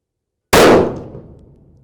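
A single loud gunshot from a Browning X-Bolt 2 hunting rifle firing factory ammunition, a sharp close blast followed by a decaying ring-out, heard alone.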